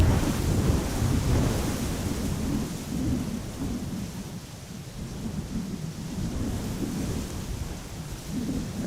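Strong crosswind roars steadily at Amsterdam Schiphol airport near runway 18R Polderbaan, a loud continuous rushing and buffeting that never lets up and has no voices in it.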